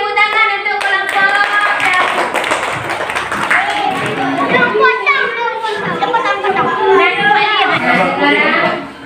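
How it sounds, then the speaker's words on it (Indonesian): First-grade schoolchildren in a math classroom clap together for a group, rhythmic patterned clapping mixed with lively chanting and children's voices throughout. "Beri tepuk tangan untuk kelompok"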